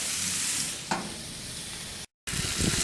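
Italian pork chops sizzle steadily in a hot pan, a close, constant frying hiss with a brief clatter partway through and a short gap of silence before the sizzling resumes.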